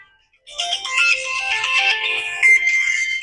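A mobile phone ringtone plays loudly and continuously for about three seconds, a bright melodic electronic tune ringing out alone in a busy tools and gadgets market in Peshawar.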